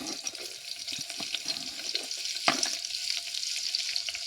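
Garlic and green chili frying in hot oil for a drumstick-leaf vegetable dish, a steady soft crackle and hiss close by with a brief louder clatter midway.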